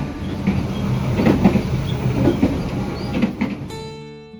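The Senja Utama passenger train from Yogyakarta to Jakarta rolls on rails, a close rumbling clatter with rhythmic wheel clicks at regular intervals, ending abruptly in a faint tonal hum.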